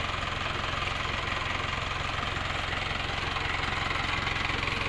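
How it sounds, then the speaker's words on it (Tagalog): Engine of an owner-type jeep idling up close, a steady low rumble with a fast even knock-like pulse running unchanged throughout, with no voices. "Makina tayo, pwede silipin."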